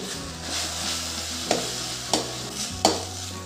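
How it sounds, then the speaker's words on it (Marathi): Raw mango sabzi being sautéed in a pan with chili powder and turmeric: a steady close sizzle with spoon stirring and a few sharp scraping knocks against the pan. "तिखट व हळद टाकते आता ते सर्व आपण छान परतवून घेऊ"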